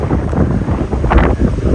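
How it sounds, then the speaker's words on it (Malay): Strong wind buffeting the microphone at a beach in Malaysia gives a steady, loud roar, with a brief surge of gusting noise near the middle. "Sebab angin dia sangat kuat."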